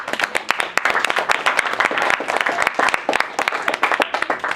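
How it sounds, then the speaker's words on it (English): A small meeting audience of a Toastmasters-style club claps for the evening's Toastmaster, a dense run of close, distinct handclaps carrying steadily for several seconds. "I would really like to give a round of applause for her"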